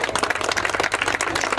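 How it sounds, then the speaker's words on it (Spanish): Audience applause at the inauguration of the 11th Expo Campesina in Saavedra, a short, dense patter of many hands clapping at fairly close range, steady and without speech. "Fuerte aplauso entonces."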